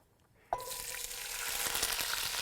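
Chopped Holy Trinity vegetables (onion, celery and bell pepper) hit a hot pan with browned meat, bursting into a loud, sudden sizzle that keeps crackling and hissing steadily, with faint stirring scrapes.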